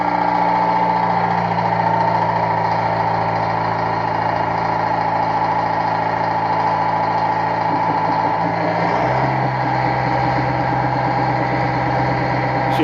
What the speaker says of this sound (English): That's a Thermo King sound.